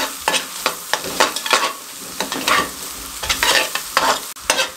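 Repeated scraping and stirring of chicken and egg fried rice in a sizzling pan, a steady rhythm of spatula strokes over frying food, close and fairly loud with no talking.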